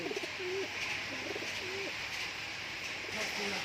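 Giribaz pigeons coo softly in a series of short, repeated calls against a quiet, steady background hum.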